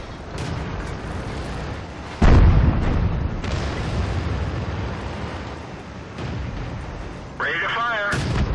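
Tank cannon shots in World of Tanks, a heavy boom near the start followed by a second blast later, with game voice callouts spoken over steady battle noise.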